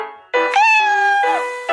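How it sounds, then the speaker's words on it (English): A cat meows twice in close succession, loud and near, each call a clear rising then falling tonal cry, alone with no voices. "That's a cute cat."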